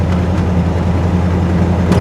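A Jeep SUV's engine hums in a low, smooth, steady drone while driving, heard from inside the cabin with no voices.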